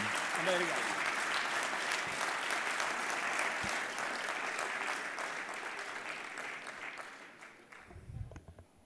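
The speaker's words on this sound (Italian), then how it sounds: "Facciamo come a teatro un secondo applauso" Sustained audience clapping at the Borsa in Milano during an address by a speaker, dense and even before thinning out toward the end, with a brief low voice near the close.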